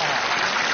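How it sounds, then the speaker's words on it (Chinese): A short, dense burst of clapping from a studio audience on a children's TV game show, greeting a parent-and-child team's result. The clapping is steady and fills the whole moment. "为自己鼓掌。"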